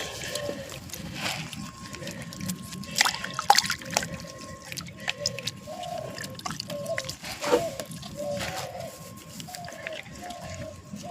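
Small, freshly harvested ginger pieces with roots, grown in a rooftop garden, being rinsed in water: intermittent splashing, trickling and dripping at close range, moderately quiet, with no talking.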